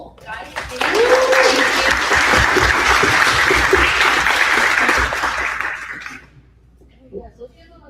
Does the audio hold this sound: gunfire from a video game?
no